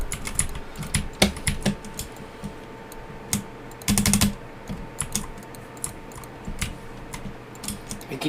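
Computer mouse clicks, crisp and close, coming in irregular bursts with a rapid cluster in the middle over a faint background hum.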